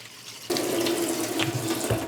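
Steady tap water streams from a faucet into a sink while vegetables are rinsed, a continuous close rush with small splashy changes as produce passes under the flow, no voices.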